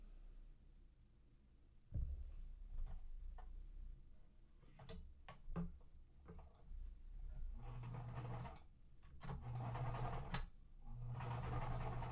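A domestic sewing machine stitches quilt blocks in bursts, whirring and ticking close up with brief pauses between runs and a steady rapid needle rhythm during each stretch.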